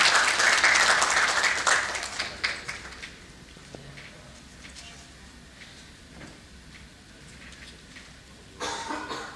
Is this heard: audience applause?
yes